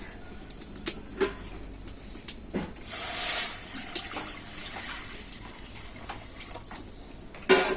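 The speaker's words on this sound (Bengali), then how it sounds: "আর কড়াতে আমি দিয়ে দেবো জল" Water is poured into a kadai set on a lit stove, with a short gushing splash in the middle. Scattered clinks and taps of utensils come before and after it, close and moderately quiet.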